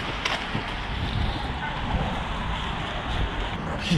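Strong headwind buffeting the microphone while cycling on a road, a steady loud broadband roar with gusty swells throughout and no speech.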